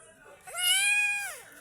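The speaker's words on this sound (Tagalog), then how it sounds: "Yun yung pusa ko." A cat with no eyes gives a single drawn-out, rising-then-falling meow, close and fairly loud, lasting about a second against a quiet background.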